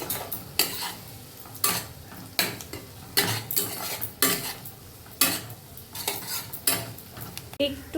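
A utensil stirs fried onion into a ginger-garlic gravy in a pan, giving a steady run of scraping clinks against the metal over a soft sizzle, close and without speech.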